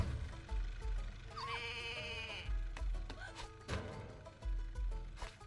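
A goat in the video game Goat Simulator 3 gives a wavering, nasal bleat over a low, thumping game soundtrack with scattered clicks and effects, heard at moderate distance.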